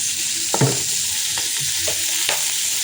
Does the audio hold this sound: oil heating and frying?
yes